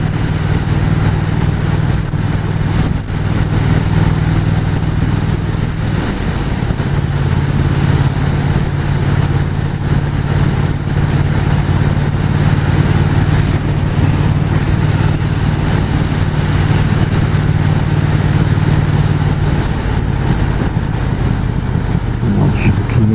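A Triumph Speed Twin 1200 motorcycle engine idles steadily and loudly up close, a constant low throb with faint voice-like sounds now and then.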